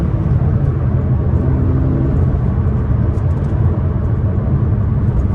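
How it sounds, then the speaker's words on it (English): 2014 Peugeot RCZ pulling at full throttle in third gear from 3000 rpm; a loud, dense engine and road roar heard from the cabin, steady and continuous. "Demonstrate the power on that third in 3000 RPM, that full throttle."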